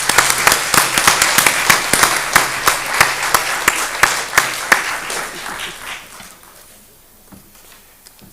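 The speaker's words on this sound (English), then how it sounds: "Let's give him another round of applause." Applause at a township committee meeting, loud crowd clapping with sharp distinct claps that gradually thin out and fade to scattered claps toward the end.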